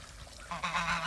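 Farm geese dabbling in fresh mud from overflowing water honk in a short burst, a couple of nasal calls rising near the end, fairly close but soft.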